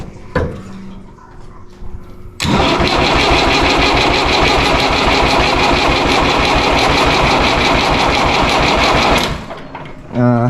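A David Brown 990 tractor engine, just fitted with a new fuel pump, catches and runs loud and steady with a rapid chugging beat for about seven seconds, then cuts out; brief talk and clatter come before it starts.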